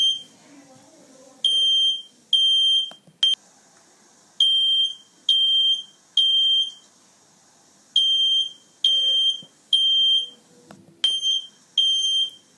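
A home smoke and fire alarm sounds in repeated sharp electronic beeps, loud and close, in evenly spaced bursts with short pauses between groups.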